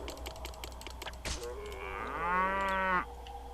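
Cattle in the city-building game Poseidon: Master of Atlantis give one long, clear moo that swells and ends abruptly, preceded by faint clicking and a low background hum.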